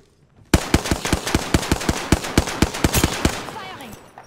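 Automatic gunfire in the video game Apex Legends: after a short quiet start, a rapid evenly spaced burst of about twenty loud, close shots rattles out, then fades into echo.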